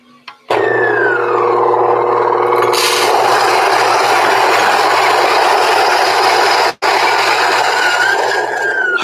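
A coffee grinder starts up with a whine and keeps up a loud, steady grinding of beans, with a high mechanical hum and a brief dropout near the end before it resumes.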